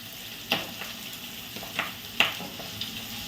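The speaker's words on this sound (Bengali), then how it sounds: "মাছগুলোকে এরকম ফটফট ফটফট করে ফাটছে" Fish sizzles in hot oil with a steady hiss, broken by a few sharp crackling pops spaced irregularly, close by.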